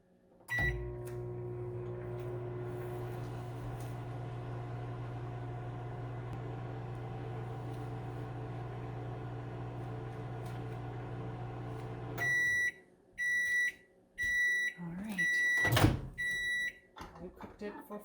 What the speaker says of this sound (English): Put back in microwave. Cook for 2 more minutes.